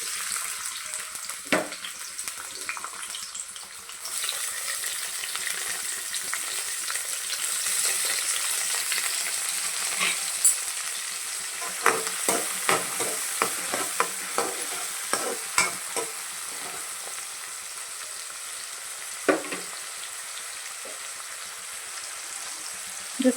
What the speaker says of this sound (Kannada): ಕೊತ್ತಂಬರಿ ಸೊಪ್ಪು, ಪುದೀನ ಸೊಪ್ಪು ಮತ್ತು ಫ್ರೈ ಮಾಡ್ತಾಯಿದ್ದೀನಿ